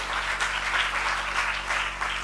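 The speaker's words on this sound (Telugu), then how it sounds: "చప్పట్లు కొట్టి దేవుని స్తుతిద్దాం" A church congregation claps steadily together during prayer, a dense continuous applause with a rhythmic pulse, close and fairly loud.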